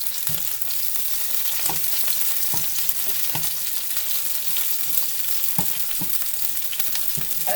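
Broccolini fries in oil in a pan, a continuous close sizzle broken by a few soft knocks as the pieces are turned, with no voices.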